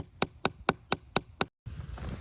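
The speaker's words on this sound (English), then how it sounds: "take my little handy hammer and tap it in" A small hammer taps a maple sap spout into a tree trunk outdoors, six sharp, evenly spaced knocks in quick succession, followed by a brief silence and soft rustling.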